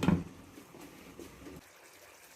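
Half a cup of water splashes into a pan of potato and pea curry, a brief loud pour at first that settles into a gentle simmering sizzle before fading out.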